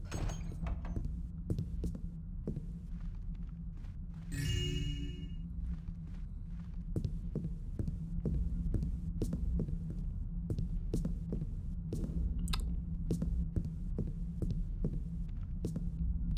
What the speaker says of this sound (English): I just love the ambient noise in this game and the atmosphere.